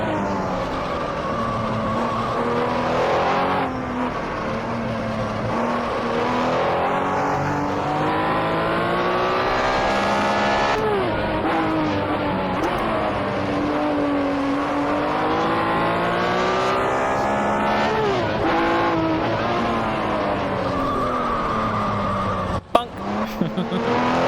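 Race car engines at the Targa Florio in a racing video game rise and fall in pitch through repeated gear changes and surges, staying loud and continuous for the whole stretch, with a sharp knock near the end.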